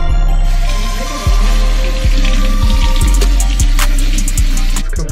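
Loud running water pours continuously while bleached hair is washed, close and steady with a few soft knocks and splashes and no talking.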